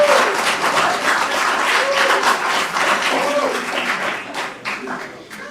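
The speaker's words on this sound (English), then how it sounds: "I think she deserves another round of applause." Audience applause following a keynote address at a conference, a full burst of crowd clapping that holds steady then thins out toward the end, with a voice faintly heard beneath.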